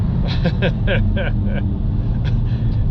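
A Porsche GT4's engine drones as a low, steady rumble from inside the moving car, with someone talking over it throughout.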